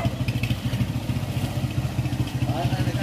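Rusi KRY 200 motorcycle engine running close by on a muddy trail, a rapid pulsing putter with rhythmic clatter, while people talk over it.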